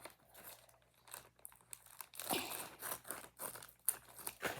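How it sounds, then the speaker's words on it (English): Plastic packaging for a fidget toy is cut open with scissors, a close, quiet series of crinkling, snipping and crunching sounds in irregular bursts, with no speech. "I have my scissors to open this up."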